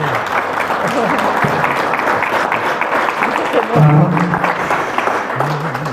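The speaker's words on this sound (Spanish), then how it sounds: "le brindamos un fuerte aplauso a don Paco" Applause from an audience at a talk honoring historian Francisco "Paco" Gallegos on the Cristero uprising, steady dense clapping filling the room with voices and murmurs mixed in throughout.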